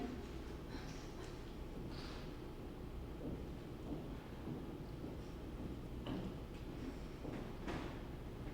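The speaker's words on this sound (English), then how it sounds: "You're not afraid of a little thunder, are you?" Low, rumbling thunder rolls steadily through a stage performance scene, with faint crackles and muffled surges rising over a continuous dull background of storm noise.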